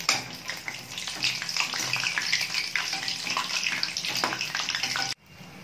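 Tamil evening snacks bubble and sizzle in hot oil on a simmering pan, a dense continuous crackle that cuts off abruptly near the end.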